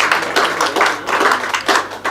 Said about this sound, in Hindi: ये जो तालियां आपने दी है ना